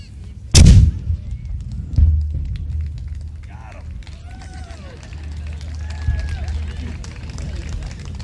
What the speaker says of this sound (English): we are one of the few forts that still fires cannons of this size